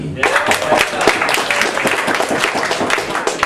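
An audience at a live benefit show breaks into dense applause, many hands clapping at once for a few seconds, with some voices mixed in.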